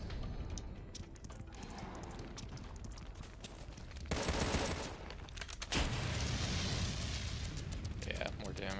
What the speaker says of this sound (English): never gonna hit anything with the flamethrower at this range